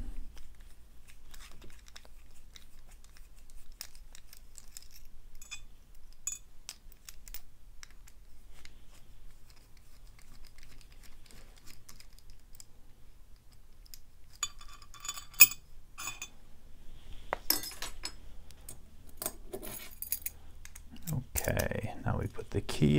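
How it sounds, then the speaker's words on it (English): Phillips screws being turned out of a Yale dimple rim cylinder lock with a screwdriver, giving faint metallic clicks and ticks that grow busier toward the end, and someone speaks briefly near the close. "And let's get these screws out."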